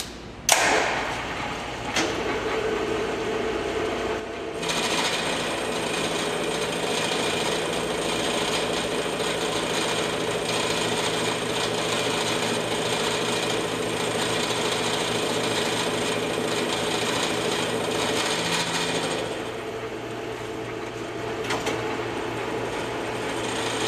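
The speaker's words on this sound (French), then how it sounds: "Je n'ai qu'à venir fraiser légèrement la surface primaire pour obtenir mon bloc complètement équarri." A milling machine lightly faces the top surface of a squared metal block held in a vise, giving a loud continuous grinding whine for about fifteen seconds that starts abruptly and then eases off near the end, with no voices.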